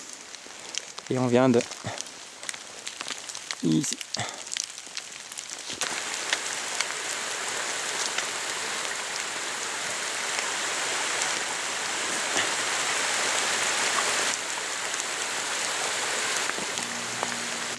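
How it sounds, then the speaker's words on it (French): Rain falling at night on a forest hike, a steady hiss of drops that builds after a few seconds and continues evenly, following brief speech from a hiker at the start. "Voilà, il pleut."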